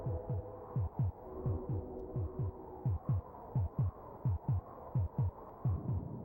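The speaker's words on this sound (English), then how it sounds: "You can hear the heartbeat getting worse." A heartbeat sound effect plays in the SNES game Populous as a steady, muffled double-thump pulse about twice a second over a low droning hum, with no voices.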